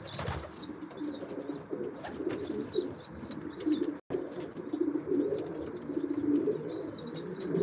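Racing pigeons coo steadily inside a loft, soft low rolling calls layered over one another, with occasional brighter chirps and a faint flutter of wings close by.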